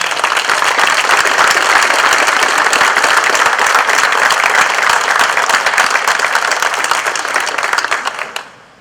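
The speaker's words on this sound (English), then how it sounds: "Another round of applause for them." Loud, sustained applause from a large crowd at a fire department 9/11 ceremony, dense and even throughout, tapering off abruptly at the end.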